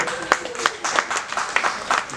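An audience at a talk on food and energy self-sufficiency for La Réunion breaks into brief, scattered applause, a few sharp claps rising and falling over roughly two seconds.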